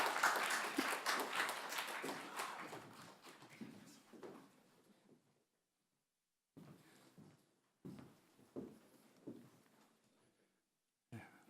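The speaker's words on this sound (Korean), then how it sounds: "박수를 해야지 될 것 같습니다. 큰 박수로 맞겠습니다." A Sunday church congregation at Hyanglin Church gives warm, full applause to welcome a visiting pastor. The clapping fades out over several seconds, followed by silence and a few faint shuffles and knocks.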